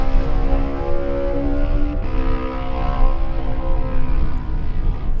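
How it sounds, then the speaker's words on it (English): A lightweight race motorcycle from the 2018 Manx Grand Prix Lightweight Race roars at full throttle, a loud sustained buzzing engine tone with a brief gear-change dip midway, steady and close throughout. "The distinctive sound of number 9, James Corks Payton."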